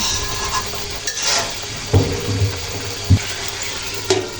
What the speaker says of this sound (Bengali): আর কয়েক মিনিট পর ঢাকনা উঠিয়ে আবার নেড়ে চেড়ে দিচ্ছি কারণ কড়াই তলায় সবজিগুলো লেগে যাচ্ছিল